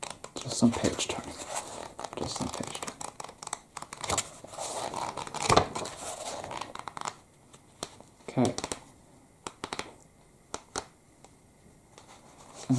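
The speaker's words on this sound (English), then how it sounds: "Just some page turning." Paper pages of a book being turned in a quiet indoor setting, with soft rustling and crinkling sweeps arriving irregularly, close to the microphone, some stronger flips standing out over a low hiss.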